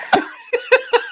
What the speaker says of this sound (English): I had to cough anyway